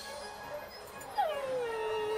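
A dog whimpers with one drawn-out, high, falling whine over a quiet background, close and fairly clear.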